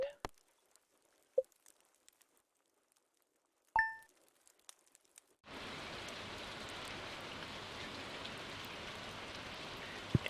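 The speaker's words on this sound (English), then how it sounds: "It doesn't normally rain 2 days in a row during spring" Steady rain falls in the farming game Stardew Valley, a dense even hiss of raindrops that starts abruptly after a few soft clicks and chimes and then continues unbroken.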